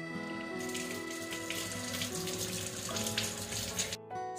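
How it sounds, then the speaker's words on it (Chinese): Two eggs are rinsed clean under a running tap, a steady close splash and trickle of water that runs for about four seconds and cuts off abruptly near the end, with no talk. "首先呢，我们要把这2颗鸡蛋清洗一下。"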